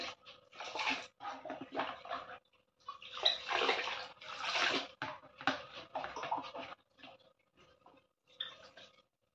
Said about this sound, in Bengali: হালকা গরম জলের মধ্যে পা ধুতে